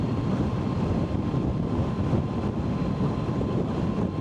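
Strong wind roars across an exposed cliff in Iceland, a dense, steady buffeting rumble that stays loud and close for the whole stretch with no voices.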